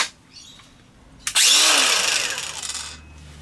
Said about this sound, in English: Using the same batteries is this battery grinder.